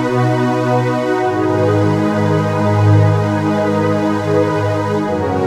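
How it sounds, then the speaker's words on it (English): An electronic keyboard playing a choir pads VP soft voice together with piano, producing sustained, lush chord pads that swell and shift, steady and loud with no talking. "With the piano, go for a selection of the voice, that is choir pads"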